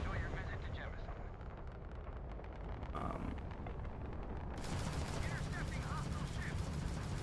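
Ballistic ship weapons, including a phalanx gun, fire in the video game Starfield as a dense, continuous rattle of rapid shots and booming impacts that swells louder midway, with someone talking over it.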